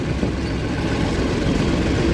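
Tractor engine in second gear moving slowly beside sugar mill trolleys, a steady low diesel rumble that stays even and close throughout, with no talking.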